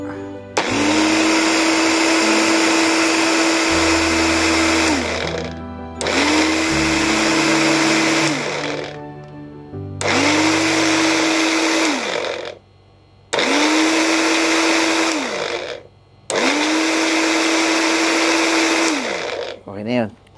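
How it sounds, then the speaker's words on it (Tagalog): A small blender frothing milk for coffee whirs in five loud bursts of a few seconds each, separated by short pauses, with a steady motor pitch that drops at the end of each run. "Meron naman maliit na blender eh."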